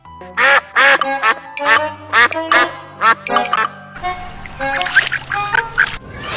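A pet duck quacks repeatedly in loud, close, rhythmic bursts, with a low steady hum underneath and faint splashing and background noise joining partway through.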